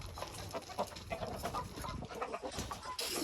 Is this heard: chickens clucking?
yes